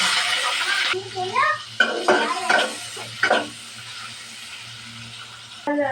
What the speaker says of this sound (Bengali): রান্নার জন্য তেল, চিংড়ি মাছটা ভাজা নেব।